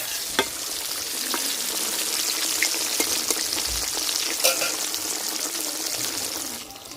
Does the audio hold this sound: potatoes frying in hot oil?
yes